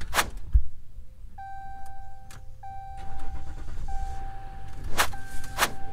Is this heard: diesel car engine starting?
yes